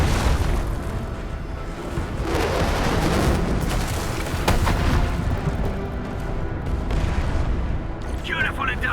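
An artillery strike in Arknights Endfield pounds a marked spot, rolling booms and explosions over continuous battle rumble, loud and sustained, with a voice briefly heard.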